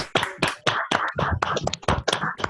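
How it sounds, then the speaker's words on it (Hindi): Several people clap for a speaker during an online meditation session in Chhattisgarh, giving a short run of close, fairly loud, irregular hand claps that overlap one another. "हम लोग को जीवंदर सर के लिए भी तालियां बजानी चाहिए"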